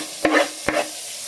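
Tomato dropped into a sizzling pan for a French-style fish massala and stirred, giving two short, sharp scraping bursts close up over a faint, steady frying hiss.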